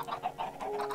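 Minecraft chickens clucking in a short run of soft, repeated bird calls, steady and close with no voices over them.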